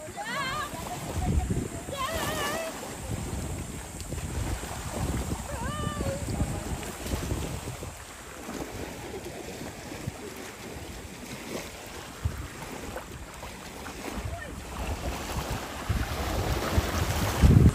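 Sea waves during an island-hopping boat trip at Padre Burgos, Quezon, rushing and splashing under heavy wind buffeting on the microphone, continuous and close, with people talking over it.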